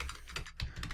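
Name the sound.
typing a post on a keyboard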